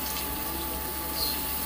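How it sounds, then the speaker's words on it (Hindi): Milk poured slowly into moong dal flour roasting in a pan for halwa, a steady soft liquid trickle and faint sizzle running continuously without talk. "हम धीरे धीरे से दूध डालेंगे।"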